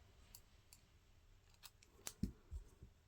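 Scissors snip the end of white yarn while knitting a seamless two-needle bootie, a few faint close clicks and one sharper cut in a quiet room.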